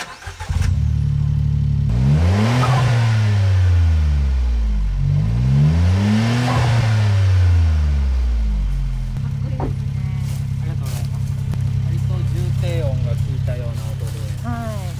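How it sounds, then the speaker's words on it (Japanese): Suzuki Jimny (JB64/JB74) engine fitted with a Taniguchi air cleaner, starting up and revving twice in rising and falling sweeps, then settling into a steady idle, loud and close. "ちょっとエンジンかけてみますね"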